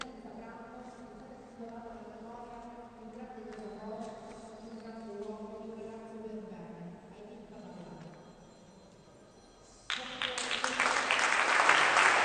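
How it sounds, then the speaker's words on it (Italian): A basketball crowd at the Palamini arena in Messina applauds Aiden Fadalà; a voice over a public address speaks first, then clapping bursts in loudly and builds through the final seconds. "L'applauso del pubblico del Palamini per Aiden Fadalà."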